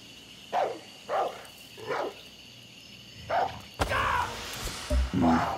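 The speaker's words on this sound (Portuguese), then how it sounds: "Cachorro." A dog barks in the video game Far Cry 6: several separate, evenly spaced barks ring out at moderate distance, then a louder, busier stretch of barks and noise follows near the end.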